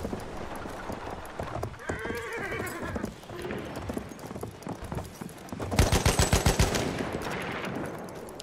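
Rapid hoofbeats of a galloping horse with a whinny in the video game Battlefield, mixed with bursts of gunfire and battle noise in a busy game scene.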